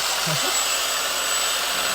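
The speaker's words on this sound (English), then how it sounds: "Keep sanding it" A power sander whirs with a steady, broadband hiss as it sands a curb-damaged aluminum Mustang wheel, constant and fairly close, with no pauses.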